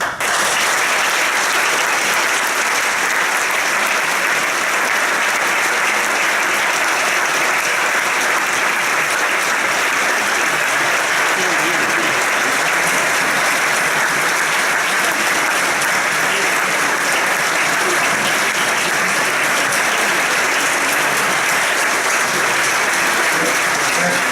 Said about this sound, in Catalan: crec que aquest gran aplaudiment és per les teves paraules